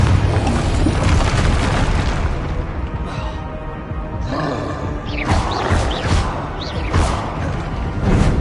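Confringo blast spells go off in the video game Hogwarts Legacy as loud, deep booms and crackling explosive bursts, several overlapping impacts over a constant heavy rumble.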